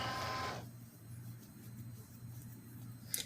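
A Cricut cutting machine starts cutting a strawberry topper: a short burst of loud mechanical whirring, then a steady low motor hum with faint clicks and a brief sharper tick near the end.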